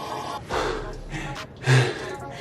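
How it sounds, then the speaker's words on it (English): Heavy, ragged out-of-breath breathing with sharp gasps and a snort-like intake, close to the mic, coming in several uneven bursts. "I'm out of breath."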